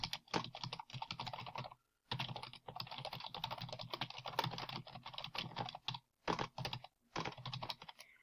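Typing on a computer keyboard, rapid bursts of close, crisp key clicks broken by short pauses.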